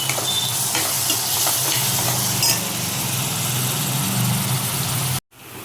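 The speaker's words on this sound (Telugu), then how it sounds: "ఉల్లిపాయలు వేగిన తర్వాత అల్లం వెల్లుల్లి పేస్ట్ వేసుకోవాలి. మొత్తం కలుపుకోవాలి." Ginger garlic paste being stirred into fried onions in a pan for paneer curry, a steady close sizzle and frying hiss with scraping stir sounds running continuously under a low hum, cutting off abruptly near the end.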